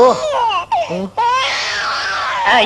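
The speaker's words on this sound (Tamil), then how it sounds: "குழந்தை அழுகுது" A baby cries in a Tamil comedy film scene, with loud, wavering wails broken by a couple of short pauses, close and alone.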